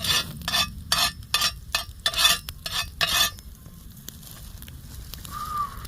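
Bread frying in butter in a pan over a campfire, with a run of rhythmic scraping and stirring strokes over a steady low sizzle, then a quieter stretch of sizzling and crackle near the end.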